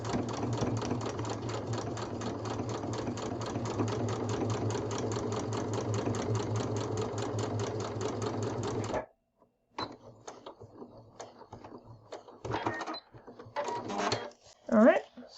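A sewing machine stitches a foundation paper piecing seam on a quilt block, running steadily and loudly for about nine seconds, then stopping; short back-stitch bursts and handling clicks follow.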